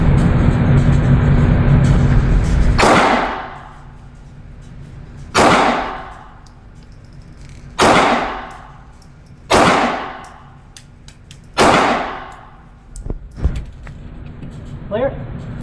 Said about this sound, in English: So we're just going to take a nice controlled grouping of 5 shots